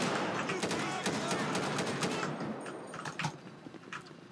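Gunfire in GTA 5 during a UK counter-terrorism police raid, a dense fusillade of rapid sharp shots, loud at first and thinning into scattered bursts, with shouting voices mixed in.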